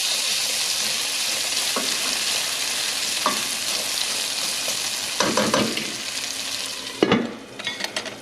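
Potatoes fry in bacon grease with a dense, continuous sizzle close by, and a few clattering stirs or pan knocks come through near the end.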